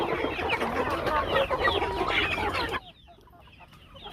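Chickens clucking in a free-range poultry area, a dense chorus of close, busy clucks that cuts off abruptly, leaving only faint scattered calls.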